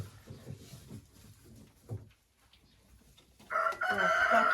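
Chickens in a backyard coop where hens go into nests to lay, giving soft scattered clucks and a rooster's crow, moderately close, followed by louder bright calling toward the end.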